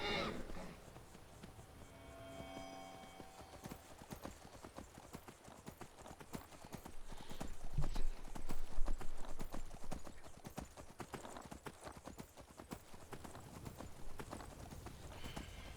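Steady clip-clop of a horse's hooves climbing a mountain in the Skyrim video game, heard as quick irregular hoof clatter all the way through, louder in the middle, with a faint whinny near the start.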